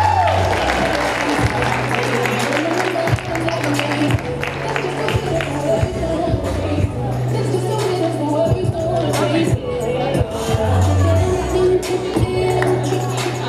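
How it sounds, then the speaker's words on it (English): Crowd at a high school prom fashion show cheers and claps for a couple walking out, a loud continuous roar of applause, whoops and chatter throughout, with music and an announcer's voice over it. "Make some noise for Thomas and Maddie."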